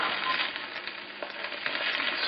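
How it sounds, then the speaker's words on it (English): Potatoes fry in a cast iron pan with a constant close, crackling sizzle that holds steady throughout, with no voices. "when you're cooking on cast iron like this, it's going to make the bottom very brown and crispy right away"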